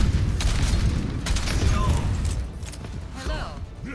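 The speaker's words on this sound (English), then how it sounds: "The explosions are so beautiful" Junkrat's explosions in the Overwatch video game: repeated booming blasts and rumbling bursts with mechanical clatter in a busy match, loud and continuous, with game voice lines and speech running underneath.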